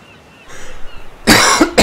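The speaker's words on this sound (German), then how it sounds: "Die letzte Aufnahme noch während der Husterei" Loud, harsh coughing bursts close to the mic while playing the German Ark Survival Evolved game, a sustained fit followed by one more short cough after a quieter stretch.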